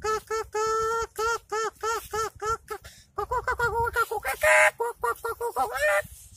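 A boy imitates a chicken with his voice, a rapid run of short, loud, nasal clucking calls in quick rhythmic bursts, close and alone.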